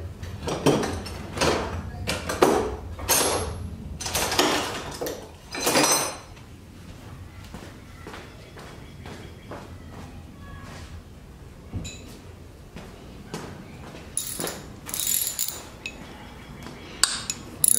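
Metal tools clinking during repair work on a 2006 Honda TRX300EX ATV: scattered sharp clinks and knocks of a socket and wrench, close by, with quieter rattles and pauses in between.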